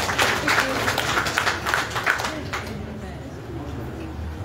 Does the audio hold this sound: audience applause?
yes